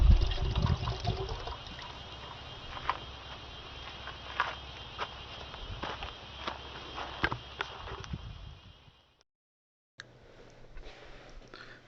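Water trickles and splashes from the faucet of a homemade single-stage biosand filter, a light continuous flow with small drips, briefly cut off near the end before resuming faintly.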